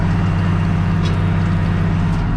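A tractor hitched to a plough runs at a constant steady drone, close and loud, with a low rhythmic throb underneath and no voices.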